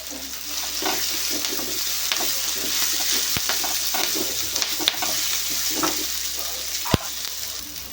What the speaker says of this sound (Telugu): సో ఉల్లిపాయలు కొంచెం రంగు మారేంత వరకు ఇలానే వేయించుకుందాం